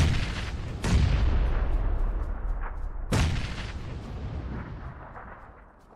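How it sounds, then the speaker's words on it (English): Gunfire from enemy players in a shooter video game: two loud, booming shots about two seconds apart, each followed by a long rumbling decay, with no talking. "Is that them shooting at you?"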